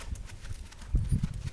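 A ridden horse's hooves clip-clop on the ground in a steady gait, with a few heavier, closer thuds midway through and no talking.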